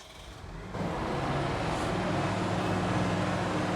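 Steady engine drone of a vehicle in Farming Simulator 19, a low rumble that steps up in level after a moment and then holds continuous and fairly loud.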